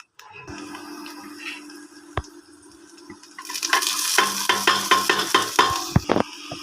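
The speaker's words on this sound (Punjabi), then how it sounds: "ਇਹਨੂੰ ਥੋੜਾ ਜਿਹਾ ਭੁੰਨ ਲਵਾਂਗੇ" Moong dal roasting in a pan on the stove gives a soft steady sizzle, then louder stirring with repeated scrapes and clinks of a spoon against the pan in the second half.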